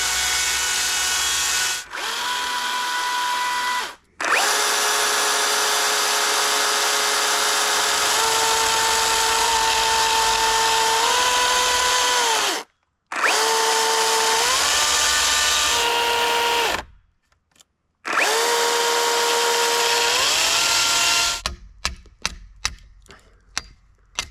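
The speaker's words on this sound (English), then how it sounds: "I definitely went way too deep with the chainsaw going that way." A chainsaw cuts handrail notches into log posts for a woodshed, its loud, steady engine whine rising and falling in pitch through several long bursts with short pauses. It ends in a run of sharp knocks.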